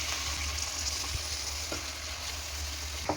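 Washed chitti muthyalu rice sizzling as it is tipped into fried onions in a hot pan, a loud steady hiss with occasional soft clicks of stirring, close up and without talk.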